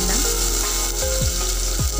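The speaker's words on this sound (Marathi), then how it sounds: "आणि छान आपण परतवून घेणार आहोत तेलावर" Chopped onion and pieces of chili sauté in hot oil in a pan, giving a steady, loud, close sizzle with the scrape of stirring at intervals and no talk.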